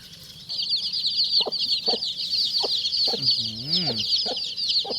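Chickens cluck in short repeated bursts close by, over a constant high chirping of birds or chicks in the background.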